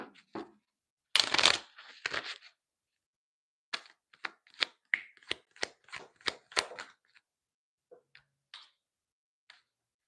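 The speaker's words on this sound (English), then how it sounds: "One more shuffle." Tarot cards are shuffled by hand in a quiet room: a burst of riffling, then a run of sharp, close snaps and taps, trailing off into a few scattered clicks.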